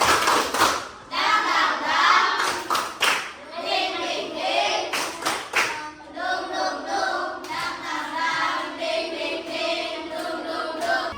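Schoolchildren in a Year 5 primary classroom perform the "tepuk semangat doa" clapping chant, with bursts of rhythmic hand claps and thumps mixed with children's voices chanting together, loud and close throughout.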